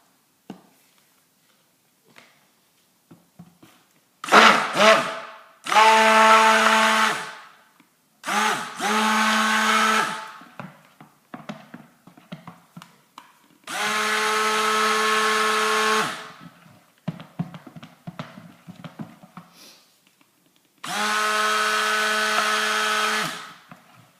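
A stick blender whirs in bursts while mixing cold process soap batter for a rhubarb and custard soap tinted with titanium dioxide: five steady humming runs of a few seconds each, separated by quiet gaps with small clicks and knocks.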